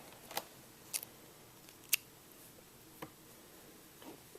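A few quiet, sharp scissor snips cut yarn while fastening off a crocheted Minnie Mouse beanie. The clicks are spaced apart in an otherwise hushed room, with no talking.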